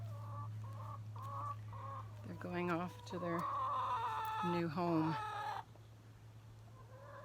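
Farm chickens clucking in a repeated, rhythmic pattern, nearby and fairly loud, with a person talking over the birds partway through and a steady low hum running underneath.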